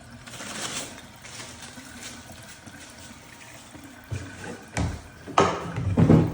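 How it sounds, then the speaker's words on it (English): Running water from a sink faucet splashes steadily as hands are rinsed of soap, a soft continuous hiss broken by a few louder splashes near the end, close and without talking. "rinse your hands thoroughly, make sure all the soap is removed"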